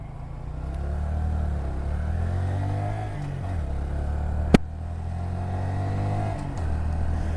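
A 2020 Honda Grom motorcycle riding in traffic, its small engine droning steadily with rising and falling revs and a sharp brief click midway, close and continuous without talk.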